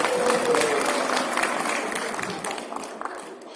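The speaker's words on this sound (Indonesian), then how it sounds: "Aplaus untuk yang di sekolah terus." An audience at an evaluation and coordination meeting breaks into dense, sustained applause, loud at first and then slowly thinning into scattered claps, with some voices underneath.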